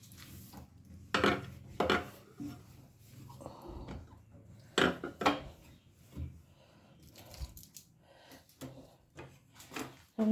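A wok (kadai) is scrubbed and washed and a dirty gas stove wiped down, close by, with intermittent scraping strokes and scattered metallic clatters separated by quiet gaps.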